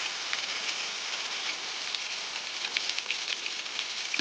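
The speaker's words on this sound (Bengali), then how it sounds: "এই মাছগুলো মিডিয়াম ফ্লেমে ভেজে দেখুন" Small fish sizzle and spit steadily in hot oil over a medium flame, a continuous crackling hiss with faint pops, close by and fairly quiet, with no talking.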